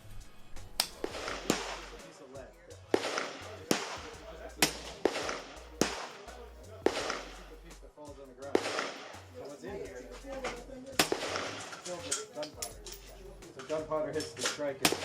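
Repeated sharp gunshots from a rifle topped with a Gideon Optics Guardian 1-10x LPVO scope, fired in a steady series roughly every second, loud and close with reports and echoes filling the gaps.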